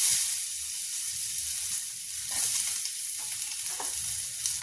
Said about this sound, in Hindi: अब इसी तेल में हम ये आलू अपना फ्राई कर लेंगे।